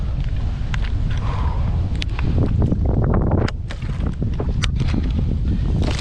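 Strong wind buffets the microphone in a constant low roar while fishing outdoors, with scattered knocks and clatters mixed in throughout.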